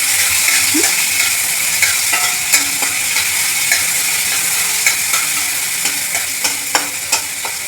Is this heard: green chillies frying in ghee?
yes